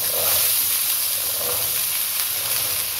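Spices frying in a pan as black chickpeas go in, giving a steady close sizzle and hiss throughout with no voices.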